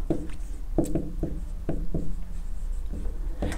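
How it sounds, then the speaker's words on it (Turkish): A pen or pencil writes on paper in short scratchy strokes and taps, close and soft, coming in small irregular bursts with pauses between, no speech. "Bunu yazıyorum."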